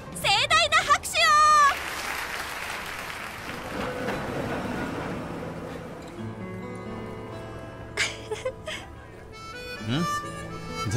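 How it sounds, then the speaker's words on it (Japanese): Applause after a show in the video game Sakura Wars, a steady crowd clapping that swells and fades under a spoken voice, with short musical sting sounds at the start and near the end. "ショーを手伝ってくれたこちらの素敵なカップルに盛大な拍手を。"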